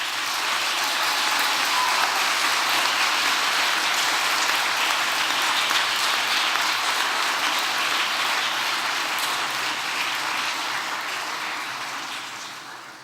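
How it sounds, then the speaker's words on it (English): Warm audience applause thanking supporters, a long, dense roar of clapping from a full room that holds steady for over ten seconds before gradually tapering off, with no talking over it. "Applaud them warmly."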